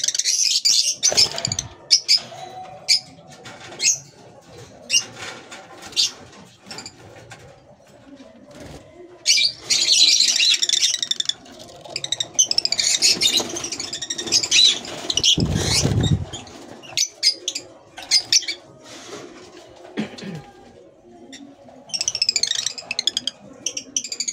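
Creamino opaline birds in an aviary chirp and tweet in scattered bursts, with a brief flutter of wings and a low voice speaking now and then.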